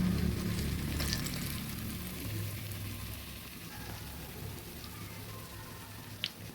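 Pakoras made of flour and potato deep-fry in oil with a faint, even bubbling sizzle, quiet and steady throughout, with one brief click near the end.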